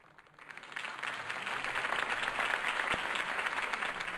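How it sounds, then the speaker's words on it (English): Video game crowd applause swells up after a quiet start and holds steady, a dense wash of clapping from many hands. "could have heard that applause"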